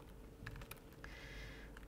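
Someone types on a computer keyboard in a quiet room, a few soft, faint clicking keystrokes scattered over about two seconds.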